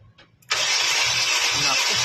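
A flood-damaged Honda Civic FB with a 1.8 automatic engine catches after a brief crank and settles into a loud, steady, rough idle close by.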